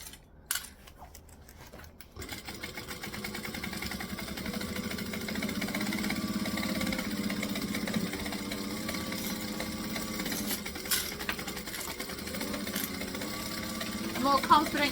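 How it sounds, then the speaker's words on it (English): A sewing machine runs a basting stitch through a vinyl bag, a steady mechanical whir that starts after a few seconds of handling noise and continues evenly, with brief faint sounds on top. "This is just a basting stitch."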